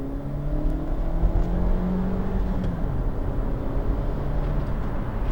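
A 2019 Suzuki S-Cross engine hums and revs up close, its pitch rising and falling through a steady drone with a rough exhaust note.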